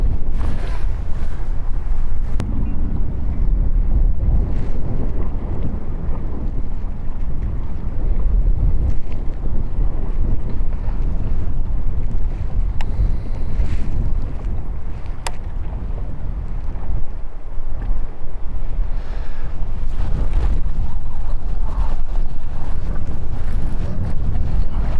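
Strong wind of about 50 mph batters the microphone aboard a boat on Lake Whitney, a loud continuous low roar with gusty swells and faint water movement beneath, and no talking.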